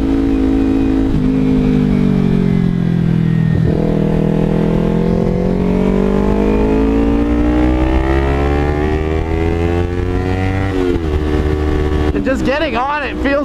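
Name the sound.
exhaust pops from aftermarket exhaust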